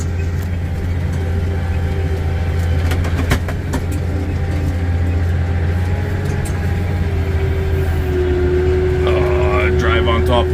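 A tractor drives through a field raking a volunteer hay crop: a steady, loud low engine drone with rattling machinery, and a voice speaks over it toward the end.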